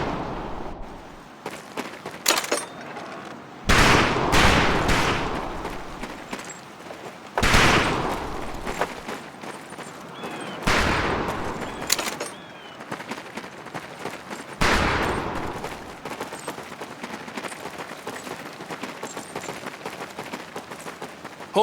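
Gunfire at a shooting range in Medal of Honor: Pacific Assault: loud, sharp volleys of several rifles firing together at irregular intervals of a few seconds, each crack followed by a decaying echo, with quieter scattered shots between.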